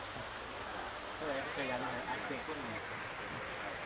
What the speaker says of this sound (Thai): ฝนตกแง่แง่แง่แง่อยู่นี่ค่ะพี่น้องค่ะ